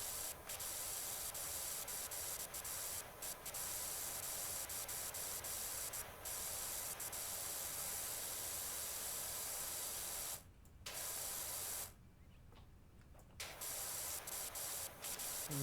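A power washer's short nozzle blasts a continuous loud hissing spray while cleaning a dirty stegosaurus in Power Washer Simulator, cutting out briefly twice before resuming.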